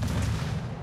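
Heavy naval guns boom in a low, rumbling volley as the battleship Flanders fires armor-piercing shells in a warship combat game, a loud, continuous thunder with no voices.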